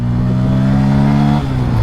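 A 2024 Bajaj Pulsar N150 motorcycle pulls hard in second gear, its loud, steady engine drone holding close and continuous with a slight shift near the end.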